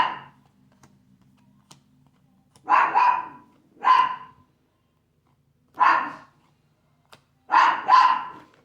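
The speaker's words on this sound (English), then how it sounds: "Sorry again about the puppy." A puppy barks in short bursts: a pair of yips, a single bark, another lone bark, then a quick double, each clear and close against an otherwise quiet room.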